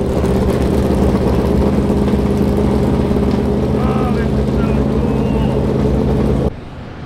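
A NASCAR race car engine runs at a steady idle in the pits at Phoenix, a loud, continuous rumbling drone with little change in pitch until it drops off abruptly near the end.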